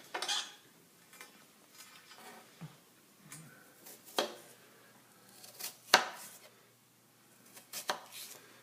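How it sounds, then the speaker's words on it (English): A knife cuts thick apple slices thinner for apple pie, giving scattered sharp close taps against a board, spaced irregularly over quiet, with no talking. "So the ones that are thick, I got to cut several times to make thin slices."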